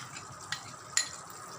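Tomato ketchup being stirred into a thickening sauce in a pan for crispy potato 65, a quiet steady scraping with two brief clinks of the spoon, close and alone.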